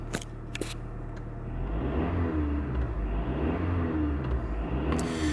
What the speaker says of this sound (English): Let's go ahead and rev it a little bit.